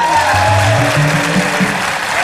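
Studio audience applause on an Indonesian TV talk show, loud continuous clapping with a low tonal hum and musical notes mixed underneath.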